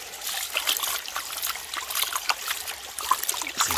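Water washes gold-prospecting concentrates off a sluice mat into a bucket at a West Virginia dig, a close, continuous trickle and splash that swells and dips for a few seconds with no voices.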